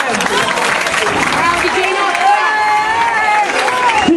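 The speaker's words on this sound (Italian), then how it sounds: "un applauso." An audience applauds at an outdoor show of vintage wedding dresses, with clapping mixed into crowd chatter and cheering, fairly loud and continuous, while voices carry over it.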